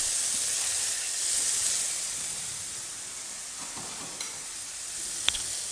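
Monkfish fries in olive oil in a pan, a steady close sizzle and hiss that swells and eases slightly, with a couple of faint clicks near the end.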